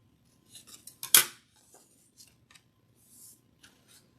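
Scissors snip through paper to cut out a polar bear shape, a cluster of short crisp cuts with one louder snip near the middle, then sparse quieter snips, close and without talk.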